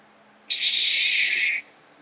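A single bright electronic whoosh of a Darth Vader toy lightsaber activating switches on abruptly, holds a steady high buzzing tone for about a second, then cuts off.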